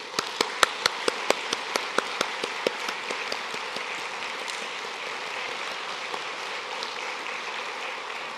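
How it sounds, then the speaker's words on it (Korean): Church congregation applauding: a dense wash of clapping with sharp, evenly spaced claps standing out at first, then settling into steady, sustained applause from a large room of people. "큰 격려의 박수로 한번."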